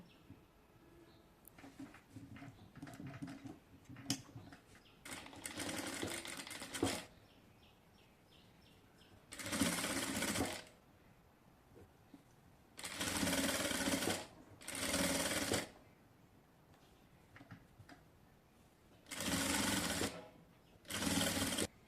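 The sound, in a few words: sewing machine stitching folded quarter-inch hem on designer pants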